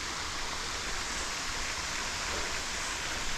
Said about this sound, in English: Yeah, a waterfall.